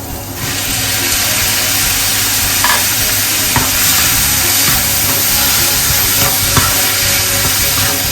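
Onions and tomatoes sizzle and fry in a pan while being stirred, a steady close crackle with occasional scraping clicks of the spoon against the pan.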